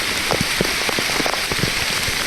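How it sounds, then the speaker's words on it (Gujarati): Steady rain patters on a surface at Matheran, with dense, even drops continuing throughout and no voices. "ઉપર વરસાદ હે ફૂલ"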